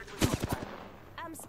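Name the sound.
gunfire from the Devotion weapon in Apex Legends video game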